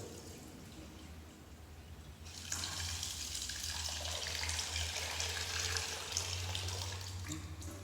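Clean water poured from a tap into a bowl of rice for rinsing, a steady splashing rush that starts partway through and keeps flowing, fairly quiet and close.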